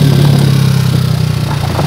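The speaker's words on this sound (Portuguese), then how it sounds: "E continua acelerando a motoca." A motorcycle engine revs and accelerates nearby, a loud steady drone with a strong low hum and rising buzzing harmonics throughout, no voices over it.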